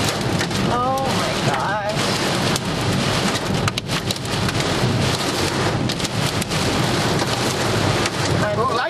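Heavy rain pours down on a stormy road trip on the Amalfi Coast of Italy, a loud, dense, continuous downpour with thunder rumbling beneath it and a few brief voices breaking through.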